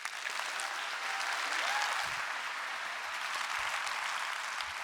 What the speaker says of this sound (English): Please give them a rapturous round of applause.